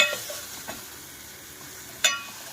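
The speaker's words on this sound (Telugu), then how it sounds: "ఫ్రై అవుతున్నాయండి దోసకాయ ముక్కలు" Cucumber pieces and small brinjal frying in a pan give a soft, low sizzle with a couple of sharp utensil clinks, one at the start and one near the end.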